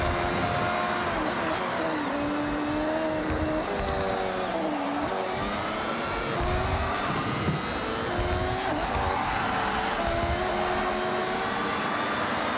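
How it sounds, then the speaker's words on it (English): A car in the Forza Horizon 6 racing game downshifts while braking, its engine note climbing and dropping in repeated revving sweeps, loud and steady with tire noise beneath and no speech. "To get a bit more rotation out of the car, I'm having to do a little bit of this, which is downshifting and braking at the same time"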